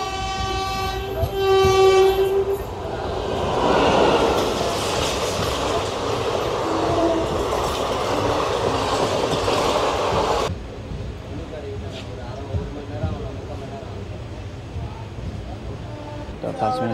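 The 16116 PDY MS Express pulls out of a station with a loud horn blast at the start, followed by a steady rumble of wagons and rail noise that drops to a quieter rolling hum partway through.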